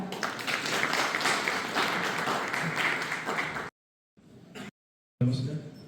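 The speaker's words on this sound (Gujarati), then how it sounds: "તો ચાલો જોરદાર તાળીઓ સાથે સ્વાગત કરીએ ડોક્ટર ઉપેન્દ્રસિંહ વાઘેલા સાહેબનો" A hall audience at an Aayush Hospital event in Bhuj applauds as a doctor is welcomed on stage: sustained crowd clapping that breaks off into near silence, followed by a brief sound and a voice starting up.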